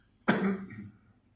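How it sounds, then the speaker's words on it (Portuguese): A single sharp cough from an adult speaker during a Portuguese spoken-word talk, a loud burst fading over about a second, close and alone with no talk over it. "desculpe aqui a minha tosse"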